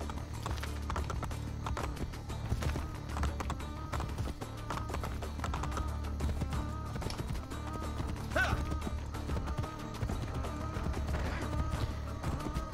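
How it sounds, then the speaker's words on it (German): Hooves from horse riding in Assassin's Creed Brotherhood clop in a steady, continuous rhythm over a low droning game soundtrack, moderately loud and with no talking. "jetzt soll ich hier auf dem Pferd reiten"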